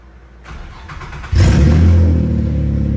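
An Infiniti G35 engine with its exhaust disconnected cranks briefly, then fires into a loud, raw, booming rumble with a quick rev before settling to a rough, throaty idle, close by.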